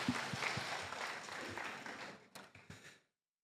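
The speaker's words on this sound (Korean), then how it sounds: "우리 주님께 영광의 박수 올려드리겠습니다" Church congregation at a Sunday evening worship service giving a round of applause, a fairly faint wash of clapping that thins into a few scattered claps before cutting to silence.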